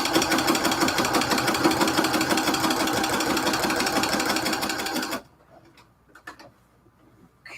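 Sewing machine running steadily while back stitching quilted cathedral window curtains, a loud continuous rapid stitching rattle for about five seconds before stopping, followed by faint scattered clicks and handling noise.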